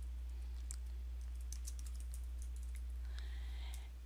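Quiet, quick keystrokes on a computer keyboard as an application name is typed, a short run of light clicks with a brief pause and then a few more taps under a low steady hum.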